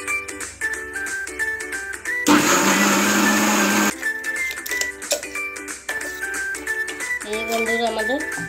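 An electric mixer grinder churns soaked chana dal with green chilli, ginger and garlic, a loud dense whirring burst of about a second and a half that rises sharply above the surrounding kitchen talk and music, then cuts off.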